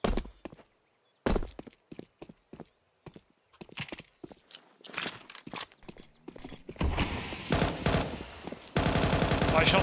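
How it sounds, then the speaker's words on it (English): Gunfire in the video game Counter-Strike comes in irregular sharp shots and short bursts, then turns into denser sustained rapid fire toward the end, loud against quiet gaps. "Nice shots for Nertz."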